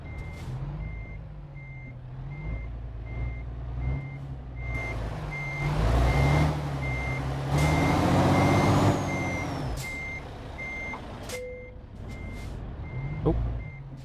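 Steady repeating reversing beeps from a truck in Euro Truck Simulator 2 on a drive from Cambridge to Exeter, evenly spaced over a low engine rumble, with a brief air-brake hiss.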